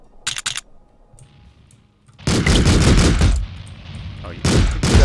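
Shotgun gunfire in the top-down game Streets of Rogue: a couple of sharp early blasts, a quiet gap, then a dense loud burst of shots and another volley near the end.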